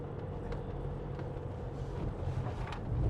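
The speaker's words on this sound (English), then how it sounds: "Great engine, loads of torque." A 2021 Ford Transit Custom 2.0 EcoBlue diesel van engine thuds steadily under load climbing a hill, a low continuous rumble with some wind buffeting, growing slightly louder toward the end.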